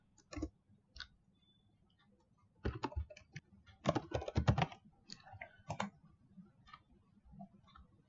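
Computer keyboard typing HTML code, close and crisp keystrokes in irregular bursts with pauses between them, no talk.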